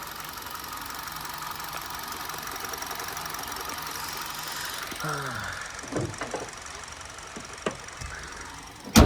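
A Hyundai i20 Asta petrol engine idles at a steady, even hum, with a few clicks, knocks and brief squeaks toward the end.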